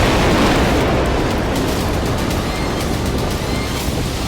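A loud, sustained roaring blast from an anti-tank missile striking an armoured vehicle rumbles continuously with heavy low-end noise, steady throughout without voices.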